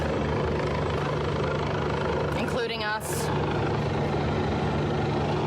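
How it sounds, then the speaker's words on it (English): A steady, low rotor drone hangs overhead throughout, with a person speaking briefly partway through. "There are police on both sides and the helicopters overhead."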